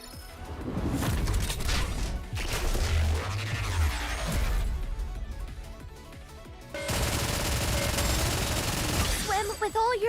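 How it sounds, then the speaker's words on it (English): Bursts of rapid gunfire and crashing impacts sound over busy game music in Nikke during a battle against the enemy back line, growing dense and loud in the final seconds. "I should shoot the back line"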